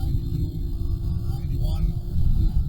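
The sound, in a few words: BMW E36 323ti engine at full throttle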